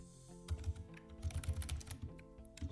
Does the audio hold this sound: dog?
no